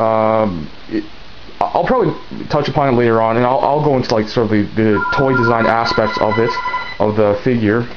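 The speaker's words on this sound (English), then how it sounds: "oh geez, that's a phone" A telephone rings in the background, its tone partly buried under someone talking steadily and close to the microphone.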